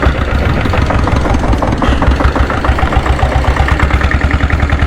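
A diesel Bullet motorcycle with a 7.5 HP engine runs steadily at close range, a loud, rough, rapid thumping chug with a knocking beat and constant vibration, no voices.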